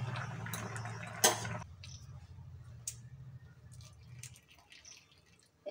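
Boiled mango pieces lifted out of their cooking water, with a brief gush and splash of dripping liquid followed by faint scattered drips and small clinks from the pot, no talk.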